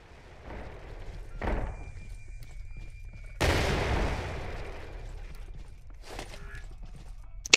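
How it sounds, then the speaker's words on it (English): A grenade blast and bursts of gunfire in the post-apocalyptic video game The Pit Infinity: a sharp broadband crack near the middle with a long rumbling tail, and several shorter bangs spread before and after it, fairly near over quiet background. "Oh, grenade!"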